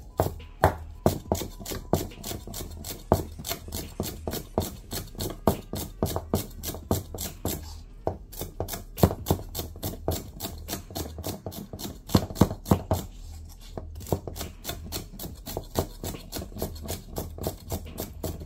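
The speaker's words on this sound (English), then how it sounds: "continue chopping with this blade. I will just enjoy push cutting with it." Rapid, steady taps of a Katsumoto nakiri knife push cutting against a cutting board, a continuous close series of crisp contacts with brief pauses.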